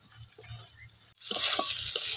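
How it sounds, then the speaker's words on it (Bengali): A spoon stirs melted jaggery filling in a pan, with soft scraping strokes at first, then after a brief gap a louder hiss and sizzle with more stirring scrapes, close and short. "1-2 মিনিট আমি এভাবে নাড়াচাড়া করে নামিয়ে নিলে"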